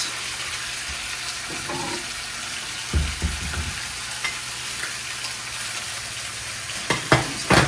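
Onion sizzles in a hot pan with a steady hiss, broken by a few scraping stirs and clatters of a utensil against the pan.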